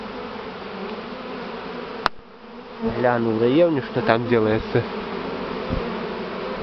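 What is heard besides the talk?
swarm of Buckfast honey bees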